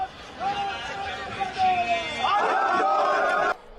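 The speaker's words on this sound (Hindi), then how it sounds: "हजारों लोगों की भीड़ खामनेई को अंतिम विदाई देने के लिए टूट पड़ी" A huge crowd of mourners surges through the Grand Mosalla gates in Tehran, a dense, steady roar of many voices with shouts rising over the babble, growing louder and fuller toward the end before cutting off.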